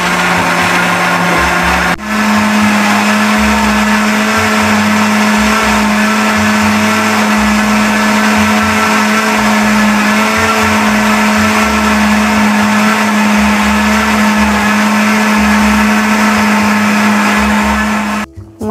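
A kitchen juicer-blender churns cream with ice water into butter, its motor whirring loud and steady for about sixteen seconds after starting abruptly, then cutting off at the end.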